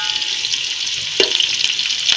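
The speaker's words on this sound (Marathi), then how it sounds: "आता कांदा आपला चांगला भाजत आलाय." Onions fry in a pan for chicken biryani with a steady bright sizzle, punctuated by a few short clinks of stirring, close and alone.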